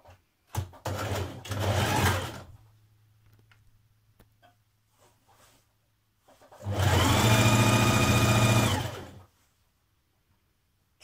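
A sewing machine stitches the side seam of a dress skirt, with a short motor run at the start, a quiet low hum, then a longer steady whirring run before it stops.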